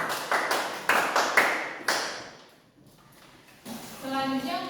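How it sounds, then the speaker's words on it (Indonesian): A classroom of students gives a short round of applause in several quick bursts, fading out before a voice speaks near the end. "Tepuk tangan lagi."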